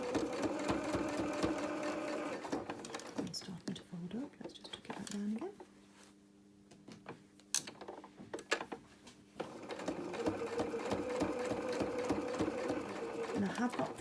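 A sewing machine stitches a 3D felt flower in rhythmic mechanical runs, stopping in the middle while someone talks and then starting again, close and fairly quiet.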